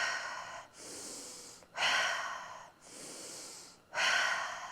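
Three deep, slow breaths drawn in through the nose and mouth ahead of a breath-hold test, each inhale a loud, near, rushing hiss, with short quieter exhales between them.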